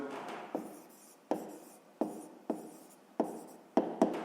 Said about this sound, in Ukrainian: Пишемо правильні дроби